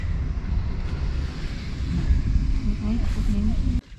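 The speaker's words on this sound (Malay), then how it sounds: "Wih sejuk angin kuat geng" Strong cold wind buffets the microphone outdoors at a family campsite in Lojing, Kelantan, a steady low roar running the full length before cutting off abruptly near the end, with a voice faintly under it.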